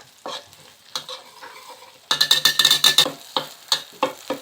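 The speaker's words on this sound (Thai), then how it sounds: "ไฟเบาๆใจเย็นๆพี่น้องคั่วพริกแกงให้หอมก่อนนะครับ" Curry paste is stir-fried in a pan over low heat, each sweep of the spatula giving a crisp scrape over a gentle sizzle. A fast, loud burst of rapid scraping comes near the middle, then spaced single strokes resume.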